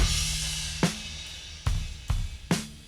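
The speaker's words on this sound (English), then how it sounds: "this is the drums on their own." A few sharp drum hits spaced apart, each a punchy low thump with a bright attack, an isolated drum track from a song playing alone with no other instruments.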